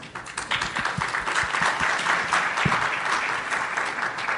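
Sustained applause from a crowd, steady and fairly loud, with a few sharper individual claps standing out.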